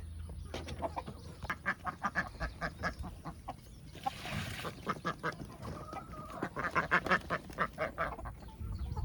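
Ducks quack in rapid repeated bursts, fairly close, with a short lull of rustling in the middle before the quacking picks up again.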